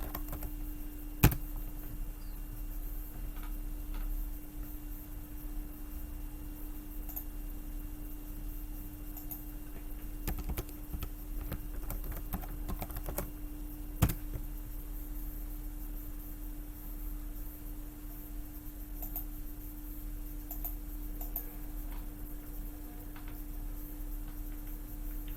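Quiet, sparse computer keyboard typing, scattered soft clicks in short clusters against a faint electrical hum, with a couple of sharper isolated taps.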